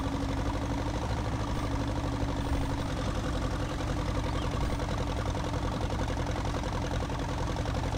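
A tractor engine idles in a farming video game, a steady dense low rumble with a fine rhythmic chug that holds even and loud throughout with no talk.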